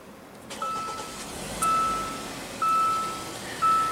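A 2016 Hyundai Santa Fe Sport's 2.4-liter four-cylinder engine starts by push button and settles into a steady idle heard from inside the car. A short electronic chime beeps at regular intervals over the engine.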